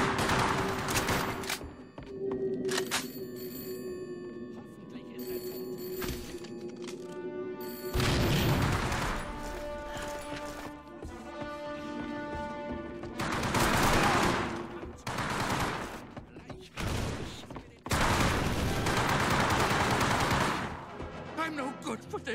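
Video game gunfire from Hour of Victory: dense bursts of automatic and single shots with booming blasts, loud and recurring in clusters throughout, mixed with game sound.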